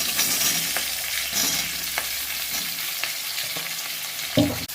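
Pieces of taro (maan kochu) drop into hot oil with two chillies in a pan used for frying fish, crackling in a loud, continuous sizzle with occasional stirring clinks and a final scrape, no talking.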